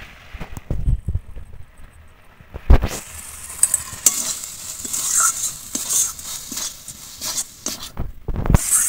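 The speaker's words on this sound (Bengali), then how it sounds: "আমি এবার যে মসুর ডালটা ধুয়ে ছেঁকে রেখেছিলাম এই ডালটা দিয়ে দেব।" Washed, drained red lentils drop into a frying spice paste that has begun releasing oil, bursting into a loud hiss and sizzle, with scraping and stirring noises and rising crackle.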